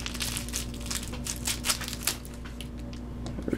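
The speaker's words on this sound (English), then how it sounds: "It's easier just to cut the tops off." Crinkling foil of a Japanese Pokemon booster pack being cut open across the top, a soft steady rustle with small crackles close to the mic, steady hum underneath.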